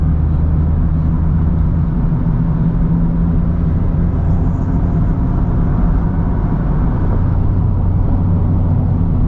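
A line of Mazda Miata cars on a scenic monument drive produces a steady, low engine and road rumble heard from close by, with no talking.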